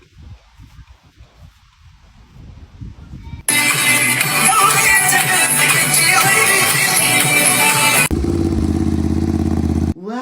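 A motorcycle engine bursts in abruptly, loud and close, roaring steadily for several seconds before shifting to a lower, rougher drone, then cutting off.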